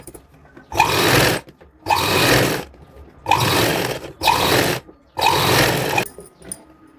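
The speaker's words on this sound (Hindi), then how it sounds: "अभी हम इसके ऊपर से एक प्रेस सिलाई लगाते हैं ताकि हमारा बैठ जाए कपड़ा" A sewing machine runs a press stitch along a kurti seam in five steady bursts of loud, close whirring, each a second or so long, separated by short pauses.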